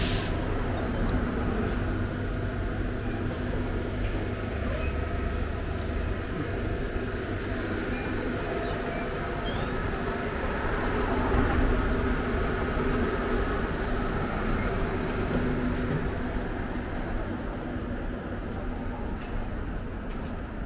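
Xiamen metro train running between stations, a steady loud rumble and rolling roar of the carriage throughout, with faint hiss above and no talk.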